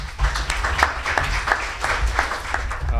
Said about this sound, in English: another round of applause for the two best presenters here today, Ben and Emmanuel